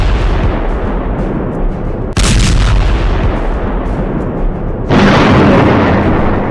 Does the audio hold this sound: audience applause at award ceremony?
no